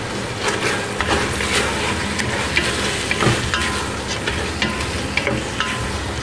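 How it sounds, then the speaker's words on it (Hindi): Mash dal lentils go into a cooking pot of meat, bringing a busy sizzle and frying crackle with repeated scraping stirs, close and fairly loud, with no one talking. "इसमें अब ऐड करने लगी मैं दाल, माश की दाल।"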